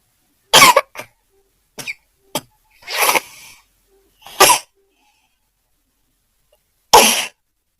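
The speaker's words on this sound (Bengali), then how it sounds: "প্রথমে দেখো কাশি আসছে," A person coughs in sharp separate bursts, one or two at a time with silent pauses between, close to the microphone; one longer, harsher burst sounds more like a sneeze or throat effort.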